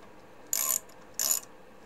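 Two short bursts of ratcheting as screws are tightened down on the resin tank film of an Elegoo Mars Pro 3D printer, close and fairly loud, each lasting about a quarter second, with quiet between.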